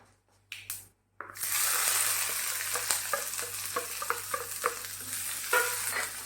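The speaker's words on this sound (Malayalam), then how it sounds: "കടുക് പൊട്ടിക്കഴിഞ്ഞാൽ അതിലേക്ക് നമുക്ക് ഈ ഉള്ളി അരിഞ്ഞത് ഇട്ട് കൊടുക്കാം" After a few brief knocks and clatters, chopped shallots drop into hot oil with popping mustard seeds and dried red chillies, settling into a strong, close sizzle broken by scraping stirs and crackles.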